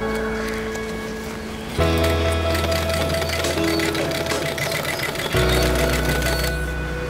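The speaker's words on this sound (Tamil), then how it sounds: "அதே மாதிரி இந்த மெட்டீரியலும் தைக்கிறேன்." Sewing machine stitching jute fabric for a milk bag, a steady close mechanical whir and rapid needle chatter that pauses briefly, then restarts louder in two long runs.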